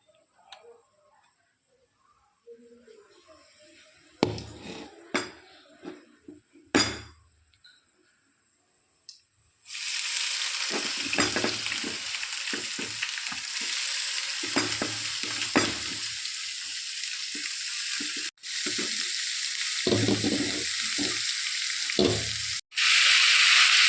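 Onions going into hot oil for an onion curry: a few scattered taps and clicks first, then a sudden loud, sustained sizzle near at hand with stirring scrapes over it, and no talking.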